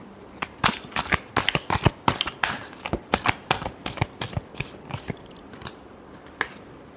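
Tarot cards being shuffled by hand: a steady run of crisp, close riffling snaps and flutters in quick irregular bursts, with no voices.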